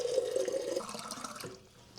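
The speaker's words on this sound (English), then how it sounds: "I'll give them another good rinse" Filtered water running over freshly harvested elderberries in a strainer, a steady tap stream splashing for about a second and a half before cutting off, leaving faint drips.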